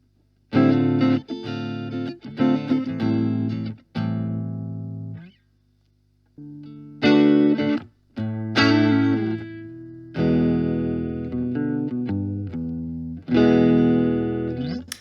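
An electric guitar plays through a Blackstar HT1-R valve amp set to low gain with the reverb off, giving short strummed chords and phrases separated by brief pauses, clean to lightly crunchy and up close.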